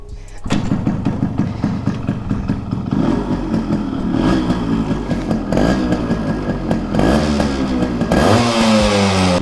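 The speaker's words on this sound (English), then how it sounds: "just wait and hear the sound, the symphony of this two-stroke machine" A Yamaha RX100 two-stroke motorcycle runs loud and close, its buzzy, crackling engine note rising and falling as it is revved, with a sharper climb at the end.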